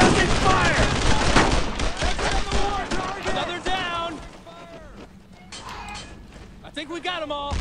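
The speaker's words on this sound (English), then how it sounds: "Suppressing fire!" Rapid bursts of rifle and machine-gun fire crackle through a firefight in the World War II shooter Brothers In Arms: Road To Hill 30, dense at first and then thinning to scattered shots, with voices shouting between volleys.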